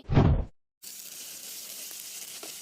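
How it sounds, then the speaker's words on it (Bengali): Cartoon sound effect of fish frying: after a brief burst of voice and a moment of silence, a steady, even frying hiss runs to the end. "মাছগুলো ভাজা হয়ে গেছে"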